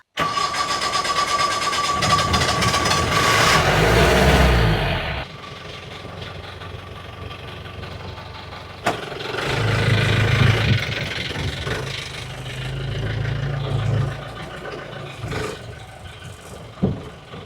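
A vehicle engine cranks and catches, then settles into a steady mid-pitched idle nearby, with a few revs and clunks over a long stretch and no talking.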